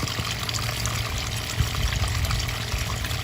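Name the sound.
pouring water with minnows into a pond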